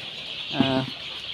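A single short cluck from a layer hen in a poultry room, close and fairly soft over a steady hiss of background noise.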